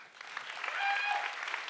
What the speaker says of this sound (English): So how would this intermediate stage 5 applause sound like tonight?